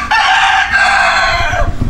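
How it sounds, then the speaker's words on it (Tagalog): A rooster crows loudly and close at a fishpond, one long drawn-out cock-a-doodle-doo lasting over a second, followed by low rustling and thumps. "Tingnan po yung manok."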